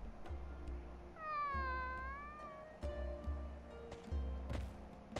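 A cat in an anime episode gives a drawn-out, wavering meow, then shorter cries, over ambient outdoor background sound, with no talk.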